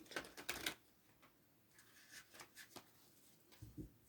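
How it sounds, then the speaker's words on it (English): Quiet crisp shuffling of tarot cards in a few brief bursts, riffling and sliding close by, with pauses between. "get the cards shuffled."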